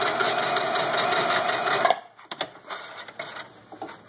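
Sewing machine stitching fabric for a harp bag runs steadily and loudly for about two seconds, then stops, leaving a few scattered clicks and handling knocks.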